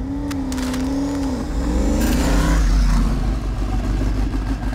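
Ken Block's rally car on a hill climb run, its engine wailing and revving hard through gear changes, pitch rising and falling, with a swelling low exhaust rumble as it passes loud and close.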